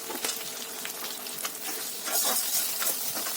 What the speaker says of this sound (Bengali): এবার তেল দেব, তেল দিয়ে এক পিস ডিম দেব। দেখুন কত সুন্দরভাবে ফ্রাই করা যায়